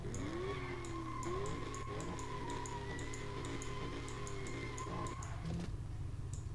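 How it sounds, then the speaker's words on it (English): A slow-accelerating car in the Top Drives mobile racing game, its engine tone rising gradually and steadily, with repeated gear-shift steps and faint tire squeal over a constant loud drone. "It's a super slow accelerating car."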